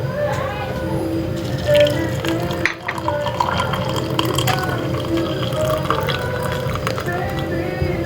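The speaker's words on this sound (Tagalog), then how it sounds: "Ibubuhos ko na yung mainit na tubig guys." Hot water poured over two blue ternate flowers, a continuous liquid trickle with small drips and clinks close up, under a steady background hum.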